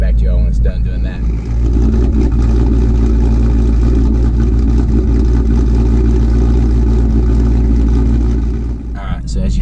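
A car engine idling roughly while burning off leftover E85 fuel, a loud steady low rumble with uneven pulsing, someone speaking over it.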